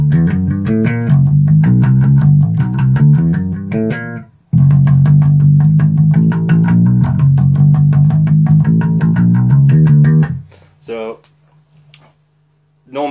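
A bass guitar without a Mooer Lofi Machine pedal plays part of an original song with steady, loud low notes for about ten seconds, followed by a short pause and some brief talking.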